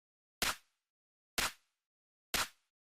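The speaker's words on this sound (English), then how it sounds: "Then I got my main clap" Three crisp sampled electronic claps from a house drum loop in Logic Pro X snap out at even intervals, bright and short with a quick decay and a dip in volume, isolated and fairly quiet.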